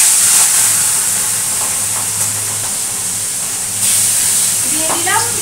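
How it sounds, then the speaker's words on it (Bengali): Katla fish pieces frying in very hot oil give a loud, steady hiss and sizzle that runs through the whole stretch, with a brief surge near the end and someone speaking over it. "তো আমি আগে মাছগুলো ভেজে নিই।"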